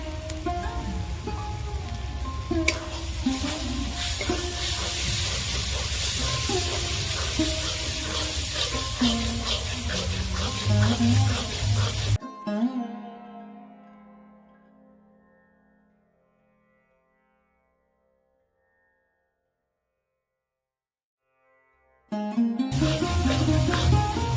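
Ginger paste and turmeric powder frying in hot oil for a jackfruit and prawn curry, a loud, steady crackling sizzle close up for about twelve seconds, then silence before the sizzle returns.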